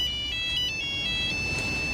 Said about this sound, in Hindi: ये क्या, गुड़िया के पापा का फोन?